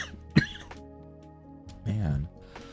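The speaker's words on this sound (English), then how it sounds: "The more I talk, I think is why my coughing is getting worse." A person coughs once, sharply and close, while sketching portraits; a short low vocal sound follows a moment later over faint room hum.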